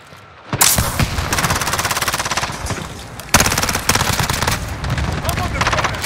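Sustained automatic gunfire in a battle-royale style video game, rapid bursts rattling loudly and continuously with a sharp louder volley partway through, with game voice lines and talk mixed in.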